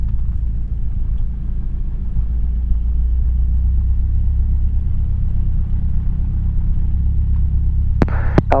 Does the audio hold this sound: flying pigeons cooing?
no